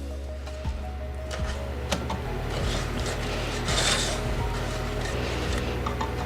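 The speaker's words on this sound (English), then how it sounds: "just mixing this all together, whisking it up" Whisking a holiday cookie mixture with oats in a mixing bowl, with steady scraping and rasping plus scattered clinks. Close and moderately loud, running throughout without talk.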